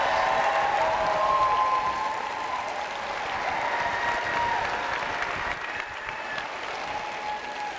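Sustained audience applause for special education teachers and paraprofessionals at a school district opening day ceremony, a loud, dense roar of clapping from a large crowd that keeps going throughout.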